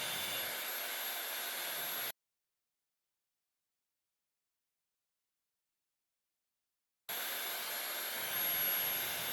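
Dyson Supersonic Nural hair dryer with its gentle air diffuser fitted, blowing a steady, loud broadband whoosh of air for about two seconds, cutting to silence, then resuming just as steadily near the end.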